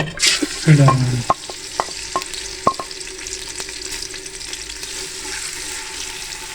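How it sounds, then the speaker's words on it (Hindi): A burst of sizzling as onions hit hot oil, then steady frying with occasional stirring clicks and scrapes, close and moderately loud. "ऑयल हमारा गर्म हो गया। अब हम इसमें प्याज शामिल कर देंगे।"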